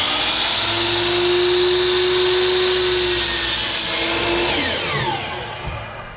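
A table saw with a miter gauge cuts wood: a steady, loud whining blade with a rasping bite through the stock, then the tone winds down as the saw coasts toward a stop.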